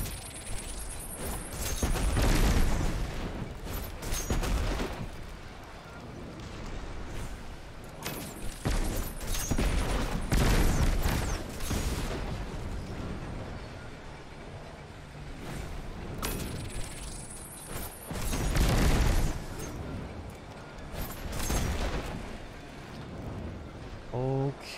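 Repeated heavy grenade explosions in the shooter game Destiny 2, loud booming blasts with crackling debris recurring every few seconds over a dense layer of weapon fire and effects.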